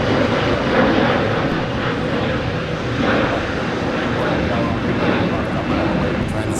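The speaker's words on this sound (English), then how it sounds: "There's inbound arrival from Dallas Fort Worth, American 2264." An American Airlines jet inbound from Dallas Fort Worth arrives at LAX, a loud, steady broadband roar of aircraft engines that holds constant throughout.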